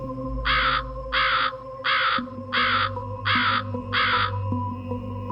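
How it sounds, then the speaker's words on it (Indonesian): A crow cawing six times in an even rhythm, each harsh call loud and near, with a reverberant echo carried through the pauses and a low steady hum beneath. "Suara burung itu menggema, begitu juga dengan kepak sayapnya"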